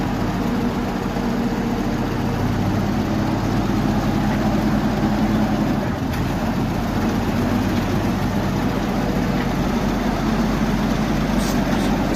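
The engine of a 1952 Oliver 88 tractor runs steadily while being driven, a loud, continuous low rumble with no pauses.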